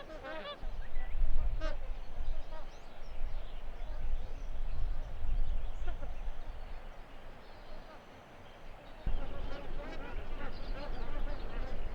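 Many duck species calling and honking across open water at Bool and Hacks Lagoons, South Australia, a mix of quacks and nasal cries at varying distances over a constant outdoor background.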